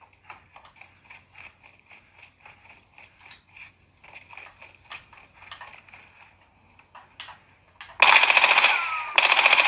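Gunfire in Call of Duty Modern Warfare 2 multiplayer, beginning with faint clicky mechanical footsteps and handling noises, then two loud close bursts of shots near the end.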